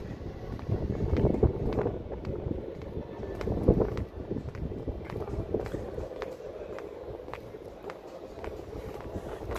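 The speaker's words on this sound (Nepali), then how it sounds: "हावा चिसो हावा चलिरहेछ।" Cold wind blows across a rooftop in Beijing, a rough rumbling gust buffeting the microphone close up, with faint ticking and scuffing sounds scattered through it.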